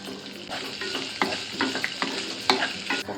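Mustard seeds, cumin, curry leaves, chili and onion fry in hot oil for batata poha, a close, crackling sizzle with quick stirring scrapes and a few pops, with no voices.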